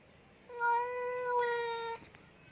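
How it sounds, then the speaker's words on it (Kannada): A pet cat gives one drawn-out, clear meow lasting about a second and a half, close and fairly loud, with no voices around it. "ಬೇರೆ ಬೆಕ್ಕುಗಳೇನಾದರೂ ಬಂದರೆ ಎಷ್ಟು ಜೋರು ಧ್ವನಿ ಮಾಡಿ ಹೋಯ್ತು ಕೂಗ್ತಾ ಇರುತ್ತೆ ನಮ್ಮ ಹೇಜಲ್."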